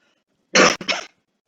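A lecturer gives a short, sharp cough in two quick bursts, close and fairly loud, with silence before and after.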